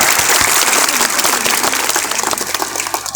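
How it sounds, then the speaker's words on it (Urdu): A large audience claps loudly and steadily for children taking part in an Islamic quiz competition on a parade ground in Kanpur. The dense, continuous applause runs throughout and is close and uninterrupted. "ایک مرتبہ زوردار تالیاں ہوں بچوں کو"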